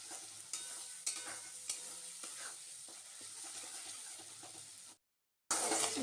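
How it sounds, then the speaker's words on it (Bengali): Masala with whole spices, dried red chilli and tomato is fried and stirred in a pan, a bright continuous sizzle under frequent scraping spoon strokes, close up, cut by a short silence near the end before the sizzling returns. "দেখুন মশলাটা বেশ কষিয়ে কষে নিচ্ছি"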